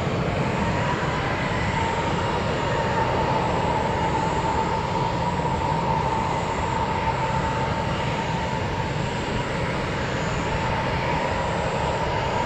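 An Airbus airliner passes overhead with a steady, broad jet roar and a faint whine above it, loud and sustained throughout with no talk.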